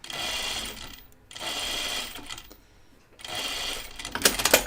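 A sewing machine stitches darts in crisp linen for a 1940s-style dress, running in three steady bursts separated by short pauses, close and clear with no talking.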